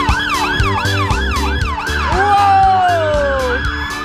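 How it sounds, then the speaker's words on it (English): Fire engine sirens wail, sweeping up and down loudly, then one shifts into a long falling tone, with a fire engine's motor rumbling underneath. "Those sirens and the sound of fire engines on their way!"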